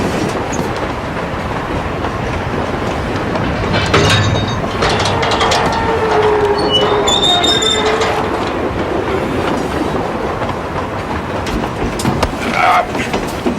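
A train rolling on rails gives a loud, continuous rumble with clattering wheels and brief metallic squeals and tones in the middle, heard close up for the whole stretch.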